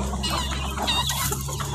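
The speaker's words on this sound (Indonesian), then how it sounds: "Ini ayam semuanya." Farmyard chickens clucking in a short, continuous, close burst of overlapping calls during feeding, with a low steady hum underneath.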